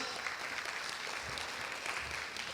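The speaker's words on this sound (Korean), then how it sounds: "큰 박수 부탁드리겠습니다." An audience applauds as a speaker takes the stage at a plenary session, a steady, faint wash of many hands clapping heard from a distance, with no talking.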